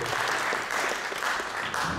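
Audience applause for the CEO of an IT company at an ICT and AI masterclass, a steady wash of many hands clapping, fairly close and continuous throughout, with no voices over it.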